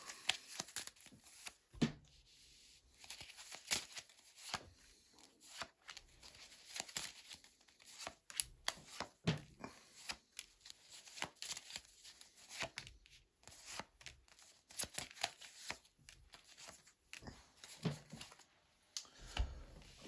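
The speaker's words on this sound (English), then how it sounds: "And then I'm going to lay down your 10 cards" Tarot cards are shuffled, then laid down one by one on a table, giving quiet, close, irregular snaps and soft slaps with pauses between, and no talk.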